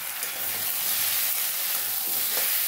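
Spices with turmeric powder sizzle and fry in a hot pan as they are stirred, for a fish roe dish. A loud, steady crackling hiss runs throughout, close up, with faint scraping of the stirring.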